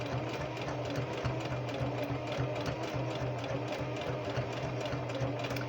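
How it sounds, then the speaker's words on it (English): A Singer Heavy Duty 4452 sewing machine runs an overlock stitch with a fast, steady mechanical whir and rapid needle clatter, close and continuous, with no talking. "I'm using the serger stitch, otherwise known as overlock. Don't forget that the Singer Heavy Duty 4452 does have that stitch."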